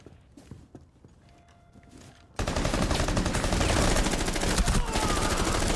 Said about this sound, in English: Very accurate shooting from the Hull Riders.